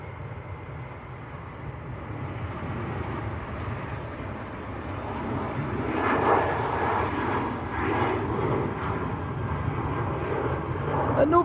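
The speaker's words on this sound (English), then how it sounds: "Next aircraft to depart and rolling away is TUI" A TUI airliner departs Manchester Airport, its engines a steady low roar from a distance that swells slightly partway through, with chatter running underneath.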